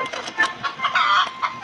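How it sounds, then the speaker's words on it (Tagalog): Chickens cluck in repeated short bursts, loud and fairly close, with several overlapping calls across the brief stretch and no talking. "Pati yung mga manok, kinikilig na guys."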